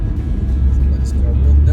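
Car driving onto a northbound freeway, a loud steady low engine and road rumble from inside the vehicle, continuous throughout.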